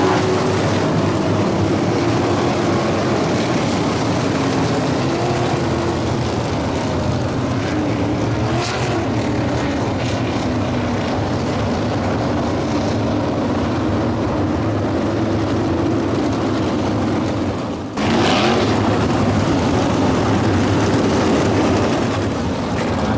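A continuous loud roar of 360 sprint cars racing at Ohsweken Speedway, with engines droning steadily at close range and one brief dip partway through, and no voices.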